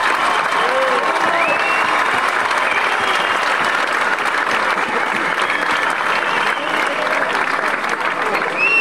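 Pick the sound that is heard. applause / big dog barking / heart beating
applause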